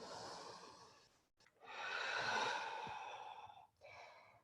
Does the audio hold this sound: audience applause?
no